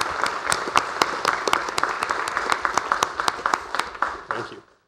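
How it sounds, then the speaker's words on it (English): A small audience at a Danvers special town meeting claps for the Smith School Building Committee, with distinct, sharp individual claps standing out over a lighter patter, steady for several seconds before fading to silence. "So I'd like to give a round of applause to the Smith School Building Committee"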